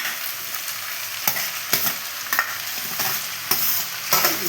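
A spatula stirs fried vegetables in a pan for egg paneer fried rice, with sharp scraping clacks every half second or so over a continuous background sizzle, close and fairly loud.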